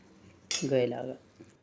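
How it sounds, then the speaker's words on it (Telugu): Cluster beans are tipped into a pan of simmering gravy and stirred, giving one short clattering burst with a clink of a utensil against the pan, followed by quiet. "ఇప్పుడు గోరుచిక్కుడుకాయ వేద్దాం. వేసి శుభ్రంగా కింద పైన శుభ్రం కలుపుతాం."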